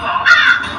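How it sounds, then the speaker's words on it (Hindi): A crow gives a single short, harsh caw, loud and close, alone against a quiet background. "आगे उस मार्ग पर काक स्थित है"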